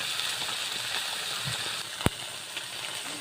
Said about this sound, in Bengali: দর্গি মাছ ভাজতেছি লাল লাল করে।